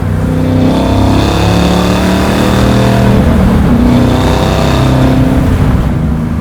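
A 650 hp supercharged LT4 V8 in a 1968 Camaro restomod with a six-speed cruises at low RPM, a loud, close, steady rumble with a deep burbling exhaust note that wavers gently through the run, with no talking.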